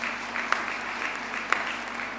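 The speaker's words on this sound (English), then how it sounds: "Can we give them a big round of applause" A graduation audience in a university hall at the UFS Qwaqwa Campus applauds its guests, with steady, dense clapping from a large crowd and a couple of sharper claps standing out, no voices.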